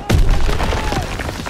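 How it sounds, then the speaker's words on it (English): Gunfire in the video game Call of Duty: WWII on PlayStation 4: a loud, dense burst of booming shots that rings on steadily for over a second. "Gunfire! We must be near our guys."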